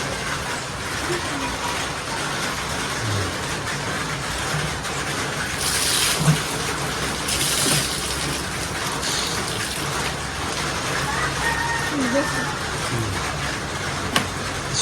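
Steady rain falls outdoors with a constant hiss throughout. Occasional faint knocks and brief bursts of heavier spatter break the even sound.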